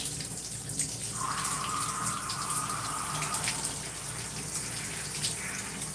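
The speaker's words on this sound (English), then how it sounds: "we're just rinsing out the conditioner in my twist" Steady stream of running water while conditioner is rinsed out of hair twists, a continuous close gushing hiss from a tap with a faint tonal whine joining partway through, with no talk.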